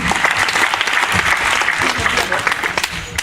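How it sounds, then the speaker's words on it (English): Sustained applause from an audience cheering a child on stage, dense steady clapping throughout with a lively crowd texture. "Can you give him a round of applause?"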